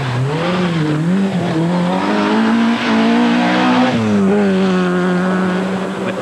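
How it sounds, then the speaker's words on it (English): A Vauxhall Nova Group A rally car in the 1600cc class, competing on a 1988 rally stage, drives past with a loud, steady engine note that rises and falls through gear changes, sustained and close throughout. "Colin McRae in the Vauxhall Nova was now 7th"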